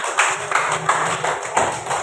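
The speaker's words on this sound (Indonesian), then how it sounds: "Tepuk tangan buat Indah." Children clap their hands for a classmate named Indah in a classroom, a steady rhythmic run of unison claps at a brisk, even pace.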